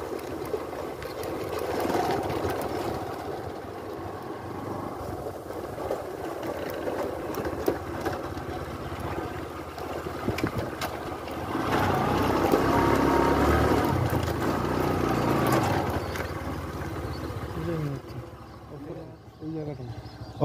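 Motorcycle ridden at dusk over a rough, bad stretch of road, a steady engine drone with bumps and rattles, rising louder midway, with someone talking over it.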